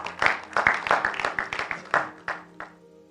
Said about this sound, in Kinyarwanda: Amashyi menshi ku Mwana